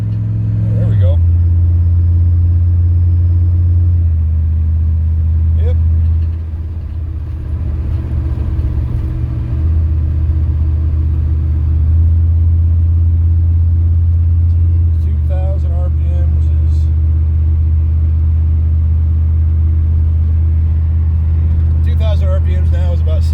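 A 1990 Chevrolet K2500 truck with a 4L80E transmission runs with a loud, steady low engine rumble that shifts in pitch a few times, while someone talks over it.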